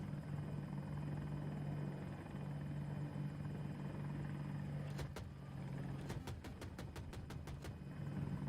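A helicopter in the video game Battlefield 2042 drones steadily with a low rotor hum throughout, joined near the end by a rapid burst of sharp clicks or shots.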